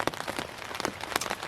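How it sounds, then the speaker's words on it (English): Steady rain pattering on a surface, with irregular close raindrop taps and a continuous wash of noise, alone with no voices. "With this rain,"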